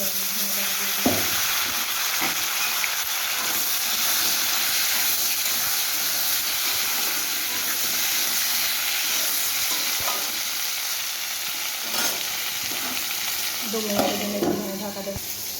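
Potatoes and vegetable stalks frying in a pan give a continuous close hiss and sizzle, broken by a few sharper clinks of stirring.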